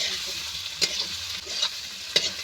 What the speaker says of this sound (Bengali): কাঁচা লঙ্কা রসুন কুচি দিয়ে আমি ভালো করে এইভাবে